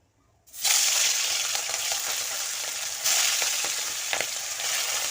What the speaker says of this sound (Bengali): কড়াইতে তেল গরম হয়ে গিয়েছে আমি এই ইলিশ মাছগুলো ভেজে নেব